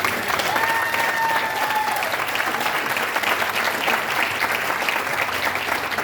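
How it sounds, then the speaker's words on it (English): Loud, sustained applause from a crowd clapping after a toast at a gathering, steady throughout with a brief whistle early on and no clear talk over it. "Let's clap it up for that."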